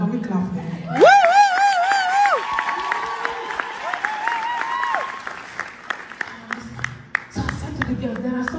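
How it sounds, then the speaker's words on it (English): Scattered, sparse clapping from a church congregation, scattered individual claps that grow busier toward the end, beneath a loud drawn-out vocal line and some voices. "Can we clap for him?"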